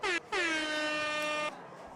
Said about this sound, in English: Little air horn.